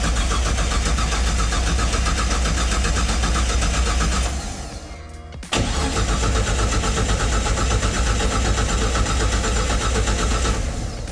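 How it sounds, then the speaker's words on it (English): A 770hp turbo Barra engine cranks over on its starter with the injectors disabled, so it turns without firing. A steady, loud mechanical churn runs throughout, with one brief dip in the middle. "we'll go ahead and give it a crank and prime her up"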